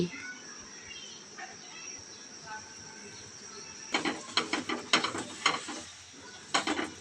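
A roti cooks on a tawa griddle: a quiet sizzle at first, then a burst of rapid scraping and clattering taps as it is pressed and turned.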